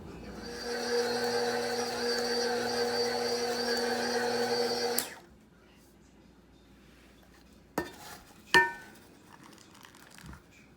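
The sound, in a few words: mixing raisins, oats and flour into cookie dough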